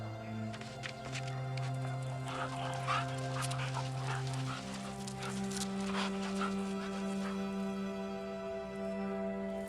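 A dog in a Russian village barks repeatedly at a distance, sharp separate barks over a steady hum, with some whimpering.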